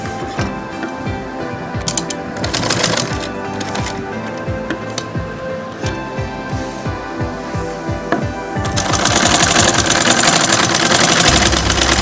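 A sewing machine stitches a lace border onto a saree or dupatta, giving a steady rapid mechanical chatter with rhythmic clicking that grows louder and busier toward the end, with no talking.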